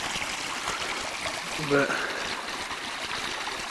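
Floodwater flowing around a house, a steady wash of rushing water heard close and constant while someone briefly speaks over it.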